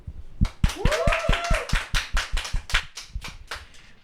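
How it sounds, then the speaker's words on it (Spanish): Clapping on a Spanish-language faith program as a guest named Elizabeth Villegas is sent off, sharp individual hand claps in an even, quick rhythm, close and distinct rather than a large crowd, with a faint tonal sound rising briefly in the middle. "Despedimos a Elizabeth Villegas con un fuerte aplauso"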